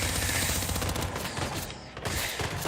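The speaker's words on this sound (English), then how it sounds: "who's shooting me?" Dense video game gunfire rattles almost without pause, a loud sustained barrage of overlapping shots and bursts with no clear gaps and no talking over it.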